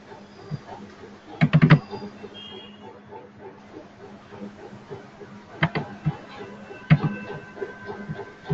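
Someone types a user ID and password on a computer keyboard, with a quick cluster of close keystrokes early on and two shorter bursts of clicks later, over faint room noise.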